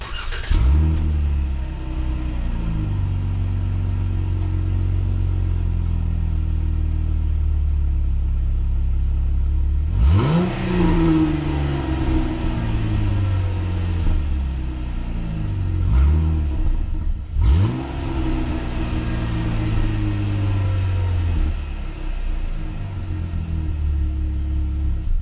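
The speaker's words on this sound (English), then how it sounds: "We're going to give it a couple revs just so you can see what it sounds like back by the exhaust" A fourth-generation Ram 1500 pickup's engine rumbles steadily at idle behind the truck by the exhaust, rising in three separate revs that sweep up and fall back, each loud and deep with a throaty exhaust note.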